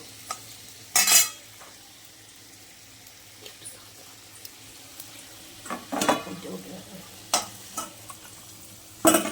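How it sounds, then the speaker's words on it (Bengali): Potatoes sizzle and are stirred with salt in a pan, fried until reddish-brown, with a few sharp scraping bursts of the spatula against the metal over a low frying hiss. "নুন দিয়ে আলুটা লাল লাল করে ভেজে নেব"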